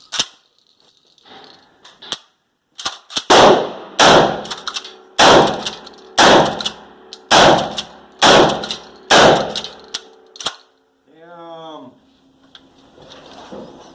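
A 12 gauge shotgun firing buckshot rounds, with seven loud, sharp blasts at a steady pace, each followed by a brief ring. A short metallic rattle of the action follows the last shot.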